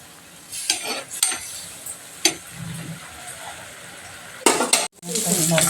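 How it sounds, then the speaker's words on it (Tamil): Prawns frying in hot oil for prawn pickle, a soft crackling sizzle broken by several sharp bursts of spattering and clinks of a utensil against the pan. "இன்னும் அந்த சலசலப்பு கொஞ்சம் அடங்கட்டும் எடுத்துடலாம்"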